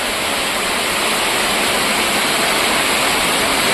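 Rainy-season floodwater rushes around a flooded house in a steady, loud, broadband roar. It holds constant from start to finish with no breaks, like a nearby waterfall.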